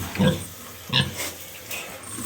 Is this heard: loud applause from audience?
no